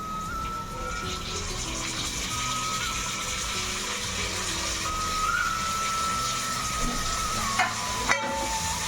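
Onions sauté in a pan for mutton biryani with a steady, moderate hiss and sizzle, a thin high whine running over it, and a few sharp clicks near the end.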